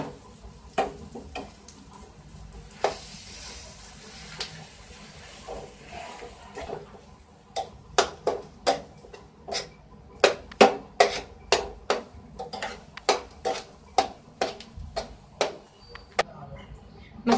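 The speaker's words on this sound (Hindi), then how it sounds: "अब हम इसमें मैश किया हुआ आलू डाल देंगे सब, और इसे अच्छे से मिक्स कर देंगे।" Mashed potato being mixed into a masala filling for masala dosa, heard as sharp, irregular taps and scrapes of a spatula against the pan that grow denser and louder toward the end.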